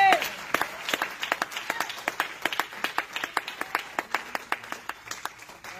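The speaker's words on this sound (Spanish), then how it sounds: "Si va a aplaudir, apláudale con fuerza" A church congregation claps during a sermon, a brisk run of sharp individual claps at moderate distance, fairly sparse and rhythmic rather than a dense roar, with faint room murmur underneath.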